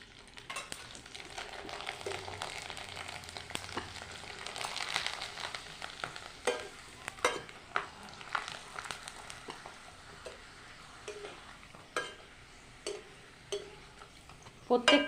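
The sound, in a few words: rice papad frying in oil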